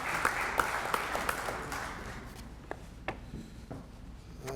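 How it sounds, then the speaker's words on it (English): A small crowd at a press conference claps at a moderate distance, scattered and fairly light, thinning out toward the end. "give them a round of applause"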